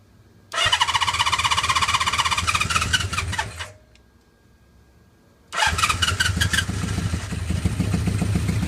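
A Honda CB550 motorcycle, just rescued from a graveyard, tested after carburetor work: its engine cranks and catches, runs loudly for about three seconds, dies to near silence, then starts again and keeps running roughly.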